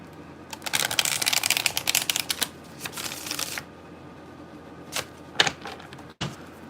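Close-up riffling of a card deck, a rapid flurry of crisp flicks followed by a few shorter shuffles and taps.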